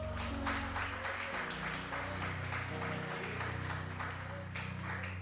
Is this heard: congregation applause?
yes